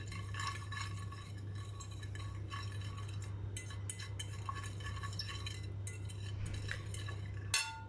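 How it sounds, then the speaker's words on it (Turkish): A spoon scrapes and clinks steadily around a bowl, mixing salt, black pepper and chili flakes into an oily mixture for baked mackerel fillets, with a constant low hum underneath and no speech. "Bunu güzelce karıştırıyorum"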